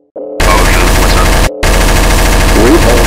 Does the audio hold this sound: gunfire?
yes